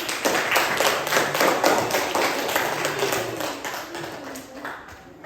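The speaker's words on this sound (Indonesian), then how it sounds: "Jadi tepuk tangan dulu untuk Dede." Applause from a classroom audience for a student named Dede, a moderate patter of clapping hands with distinct individual claps that gradually fades.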